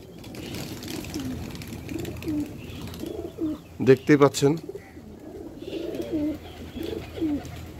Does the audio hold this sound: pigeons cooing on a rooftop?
yes